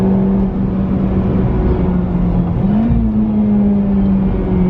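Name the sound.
Honda Civic Type R driving and accelerating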